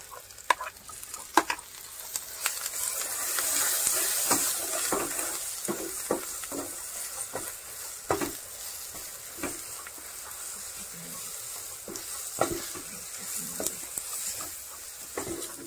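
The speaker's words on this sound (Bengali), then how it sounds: "এটা আমি নাড়তে থাকবো।" Lentil paste being stirred in a hot pan for radhaballabhi filling, with a steady close sizzle and repeated scraping strokes of a spatula running throughout, no voices.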